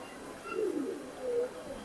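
A high-flying performance pigeon gives two soft, low coos close by, brief and gentle over a quiet background.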